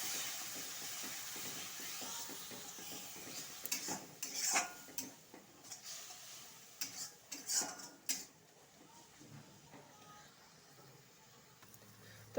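Spice masala being sautéed in a pan for a curd-and-chickpea curry, with soft irregular taps and scrapes of stirring over a faint sizzle, fairly quiet and close, no talk.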